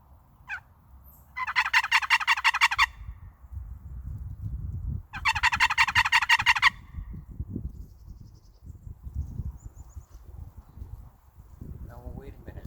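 A hand-held turkey call worked with a quick wrist motion to imitate a gobbler, giving two loud rapid gobbling bursts outdoors, with rustling and low handling noise between and after them.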